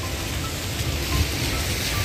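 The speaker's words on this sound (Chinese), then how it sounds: "可是现在下雨就不是很热闹啦" Rain falling on Regent Street in central London on Christmas Eve, a steady, even hiss of drops on the wet street that holds at one level throughout the short stretch, with no voices.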